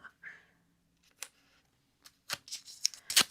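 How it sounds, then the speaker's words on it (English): A strip of tape is pulled from a roll and torn off, with a few short crackling rips and sharp snaps bunched toward the end, close but fairly quiet against near silence. "grab a little bit of tape"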